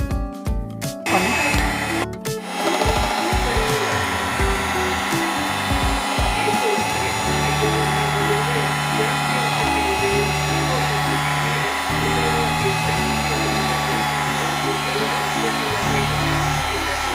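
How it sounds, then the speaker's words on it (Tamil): An electric beater whips a biscuit chocolate ice cream mixture, its motor whirring steadily and loudly with some clattering at the start, then a continuous buzzing drone throughout. "நம்ம பீட்ரு ஒரு 10 நிமிஷம் யூஸ் பண்ணிக்கலாம்"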